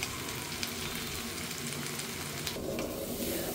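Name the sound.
water added to sizzling spiced meat in pan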